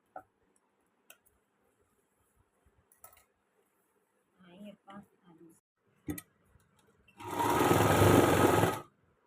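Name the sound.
sewing machine stitching umbrella palazzo fabric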